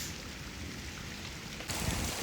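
Dense, steady heavy rain hisses loudly and close on a fishing boat during a sudden storm with lightning, then surges heavier near the end in a continuous broadband wash.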